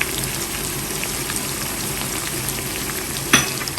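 Tomatoes sauté in a pan of beef biryani base, giving a steady, close sizzle and crackle with one brief metallic clink near the end.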